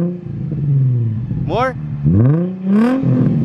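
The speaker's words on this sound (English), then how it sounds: "Does he give it a good rev?" A Nissan 350Z engine revs through an ISR single-exit exhaust, rising and falling in a couple of short, deep pulls close by, with people talking over and between the revs.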